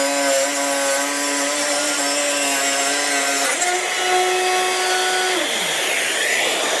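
Trend 18V cordless router cutting a channel about one centimetre deep in wood, with a loud steady motor whine that drops in pitch as it bites in, then winds down, no talking.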